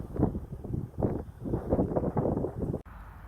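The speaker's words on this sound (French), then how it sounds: "Alors ce mois de mars, il y a beaucoup de vent." Gusty wind buffets the microphone in loud, irregular rumbling bursts, rising and falling throughout.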